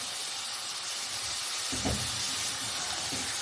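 Half a kilo of minced meat with whole potatoes fries in a pan, a steady broadband sizzle and hiss running throughout with a brief stir or clatter in the middle, no voices.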